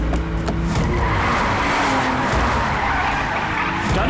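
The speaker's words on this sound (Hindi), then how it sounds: "तेज चलाओ गाड़ी, पकड़ना उसे।" Loud tire squeal and skidding from a car speeding in a chase in an action movie, with engine roar and screeching rubber filling the whole stretch without a break.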